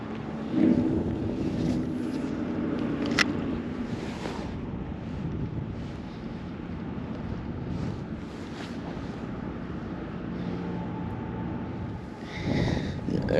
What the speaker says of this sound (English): Got that chilly wind.